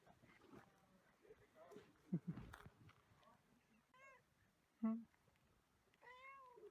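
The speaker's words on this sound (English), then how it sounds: "I did see a cat, it already got attached to me" A cat meows several times in Mongolia, drawn-out calls spaced apart, mixed with footsteps and a soft voice nearby.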